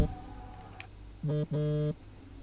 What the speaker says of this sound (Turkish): derken yine bir telefon